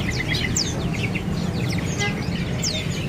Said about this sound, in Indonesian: Ready hari ini burung beranjangan nih.